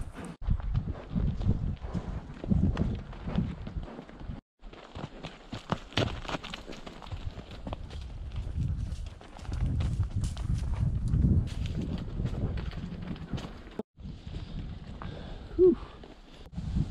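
Horse or mule hooves clopping steadily on a steep rocky mountain trail climb, irregular footfalls close by with rustling and breathing, and brief talk between riders.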